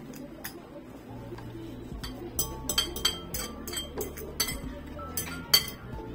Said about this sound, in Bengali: আমি এখন প্রথমে সজনে পাতা এবং ডিম একসাথে মিশিয়ে নিচ্ছি।